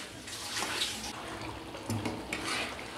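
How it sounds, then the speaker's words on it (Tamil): Tamarind water poured into brinjal thokku cooking in a pan, a steady watery splashing and sloshing with faint utensil clinks, heard alone without talk. "இப்போ இந்த புளி தண்ணியை ஊற்றிக்கிடலாம்"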